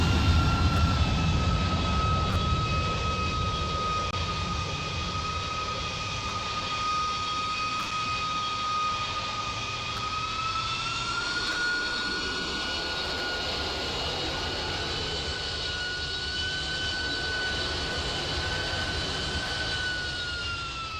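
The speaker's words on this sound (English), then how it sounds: "There goes the F-15." An F-15 jet flies past at a video-game airshow in Roblox, a steady loud engine roar with a high whine that rises slightly partway through, no speech.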